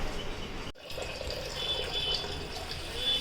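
Tap water runs steadily into a vessel while rice is rinsed for the cooker, a continuous close splashing rush with a brief break near the start.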